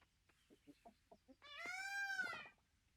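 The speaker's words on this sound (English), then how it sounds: "Alright, let's pet all of our birdie friends today." Chickens in the farming game Coral Island: a run of short, quiet clucks followed by a louder, drawn-out squawking call, clear and close with no talk over it.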